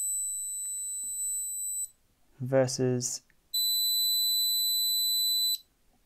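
Garmin Edge cycling GPS units sounding long, steady high-pitched 4,000 hertz beeps, two tones of about two seconds each, loud and close, with a brief spoken word between them.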